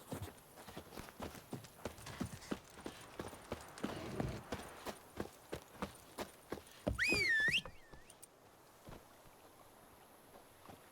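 A horse named Roach walks in a video game, its hooves clip-clopping in a steady rhythm, fairly close, with a brief whinny-like sound near the end before the footsteps fade.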